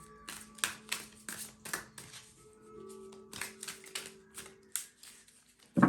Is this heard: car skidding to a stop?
no